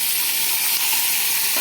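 Bitter gourd and pumpkin fry in a pan with a loud, continuous sizzling hiss that stays even throughout, heard up close with no talking.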